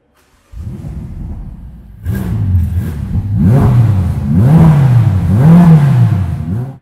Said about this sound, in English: This one has a 12-cylinder engine, so it's going to sound a certain way.